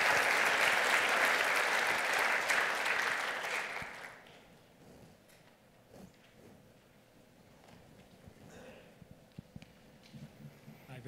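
Audience claps warmly after a computer security conference talk on cache attacks, the applause dense and even for about four seconds before fading into room noise, scattered shuffles and a voice speaking.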